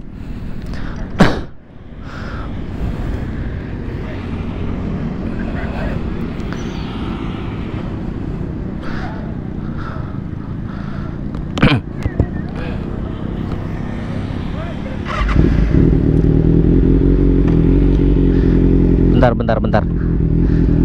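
A 2021 Kawasaki Ninja ZX-6R with aftermarket exhaust runs close by in a steady rumbling drone, with clattery blips and a louder, deeper rise in the engine note near the end, and a person speaks briefly.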